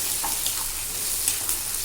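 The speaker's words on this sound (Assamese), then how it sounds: "যেতিয়ালৈকে বিলাহীটো গলি নাযায় তেতিয়ালৈকে আমি এনেকৈ ভাজিব লাগিব" Tomato fries in hot oil in a pan with a close, steady crackling sizzle and small pops, continuous throughout with no voices.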